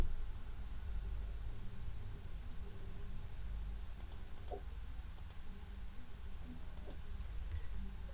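A few sharp computer mouse clicks come in quick pairs and singles while points are picked in GMSH meshing software, close and crisp over a quiet background hum.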